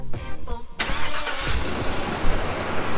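A truck engine pulling a house trailer up a steep hill in four-low gearing, a loud close rumbling drone that surges after a brief lighter start, steady and running alone without talking.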